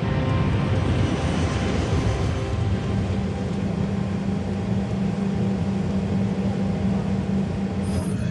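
A steady, broadband roar fills the space, a BAC-111 jet airliner cabin during its climb, continuous and even throughout with no voices.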